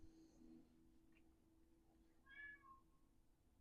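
A house cat gives a faint, short meow indoors, quiet and somewhat distant, with a low steady hum beneath and a sharp click at the very end.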